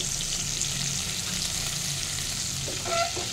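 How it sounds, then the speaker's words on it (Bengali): Crab pieces fry in hot oil for a crab curry, a dense, continuous close sizzle with light stirring and a faint clink near the end. "কাঁকড়াটা আমার ভালো মতো ফ্রাই হয়ে গেছে।"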